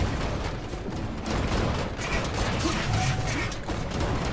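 Cannon fire from a ship in the video game MediEvil Remake, a dense barrage of booms and mechanical clatter under continuous game noise, with no voices.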